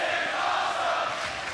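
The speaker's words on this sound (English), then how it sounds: "Crowd loving it." A wrestling arena crowd at the TNA No Surrender 2008 event roaring and cheering, a dense, steady wash of voices that sounds distant.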